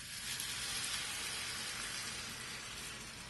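Picadillo sauce with ground beef sizzles steadily in a hot pan, a soft, even crackling hiss heard close up and fairly quiet, with no voices.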